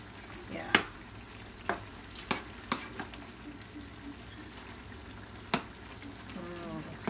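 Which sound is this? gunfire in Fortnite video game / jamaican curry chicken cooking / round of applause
jamaican curry chicken cooking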